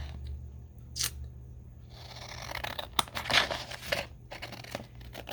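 Scissors snipping through a sheet of card background for journal cards, a few distinct crisp cuts with light paper rustling and crinkling between them, close and fairly quiet.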